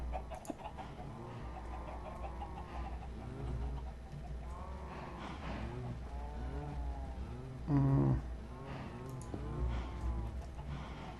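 Minecraft chickens cluck and murmur steadily over a constant low hum, with one louder squawk partway through; no talking.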